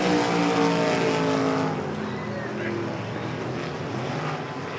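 Race cars roar around a dirt speedway oval, a loud engine drone that shifts in pitch as the pack passes, with a race commentator talking over it.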